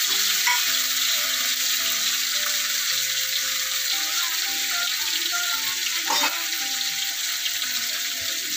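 Small pond fish frying in a generous amount of oil, a loud continuous hiss and crackle close by with a few faint utensil clinks, no voices.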